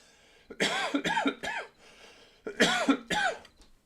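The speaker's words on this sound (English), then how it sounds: "Smoker's cough." Two close, harsh fits of hacking smoker's coughs, each a quick run of raspy bursts, separated by a short pause.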